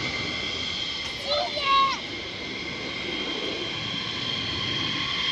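A military fighter jet idling on one engine at RAF Lakenheath, a steady distant whine and rumble with a faint rising tone midway, heard alone outdoors.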